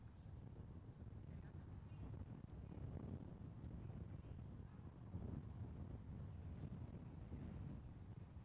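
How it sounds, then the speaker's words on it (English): Steady wind buffeting the microphone at Clay Pigeon kart track on a breezy day, a constant low rumble with gusts swelling around three and five seconds, no other sounds standing out. "It's a little bit windy here at Clay Pigeon today"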